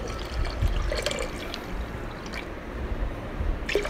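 Milk for kheer pouring steadily into a metal pressure cooker, a continuous liquid splash and gurgle with a few small clinks, close by.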